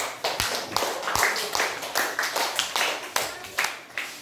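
Students in a classroom clapping for a student group, a short burst of hand claps at a moderate, slightly uneven pace, close and fairly light, with no voices over it.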